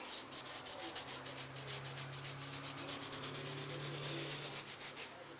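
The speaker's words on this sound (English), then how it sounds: "if you scrub the bottom of the shoe with that one" A shoe sole being scrubbed with a brush, a steady rapid rasping back-and-forth that goes on without a break, close and fairly loud.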